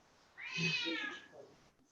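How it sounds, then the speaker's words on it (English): A house cat gives a single drawn-out meow, close and clear, rising then trailing off over about a second in a quiet room. "Can you hear the cat?"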